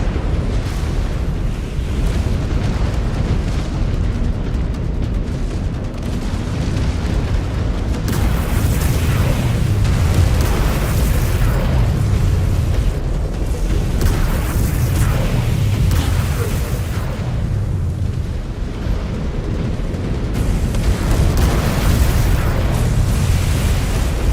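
Incoming missile explosions in MechWarrior 5: Clans, a continuous loud barrage of booming blasts and rumbling impacts over the full stretch, with brief voice callouts mixed in.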